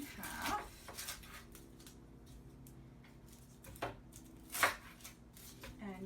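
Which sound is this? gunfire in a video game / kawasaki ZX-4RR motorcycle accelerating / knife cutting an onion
knife cutting an onion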